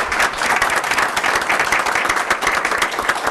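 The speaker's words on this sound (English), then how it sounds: "Let's give a big round of applause to these incredible students." An audience at a Santa Barbara Unified School District board meeting applauds students, a dense, steady wash of many hands clapping, loud and sustained without letup.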